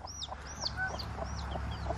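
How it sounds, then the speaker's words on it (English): A hen clucks softly and repeatedly, with high chirping from small chicks close by against a faint steady hum. "This hen hatched out 3 chicks."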